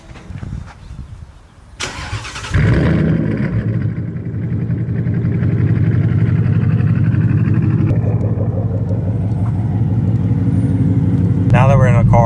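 A Gen 3 Ford Mustang GT V8, 2018 or later, cranks and roars to life, then settles into a deep, loud rumbling idle with a brief rev near the end; a voice speaks early on.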